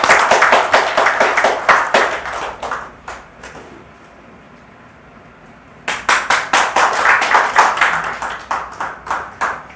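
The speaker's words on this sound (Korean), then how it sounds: "박수로 환영해 주세요." An audience claps loudly to welcome a speaker at a seminar. Brisk applause runs for about three seconds, fades into a quiet gap, then a second strong burst of clapping follows and tapers off.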